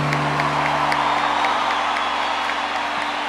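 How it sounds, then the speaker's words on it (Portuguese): A congregation at a Catholic worship gathering applauds with steady, dense clapping and some cheering, sustained and fairly loud throughout while music hums beneath. "Pode aplaudir o Senhor com grande alegria."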